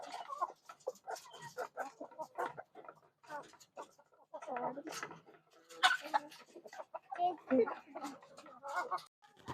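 Chickens clucking while eating homemade feed, a busy chorus of close, irregular clucks and chatter running throughout, loud and layered.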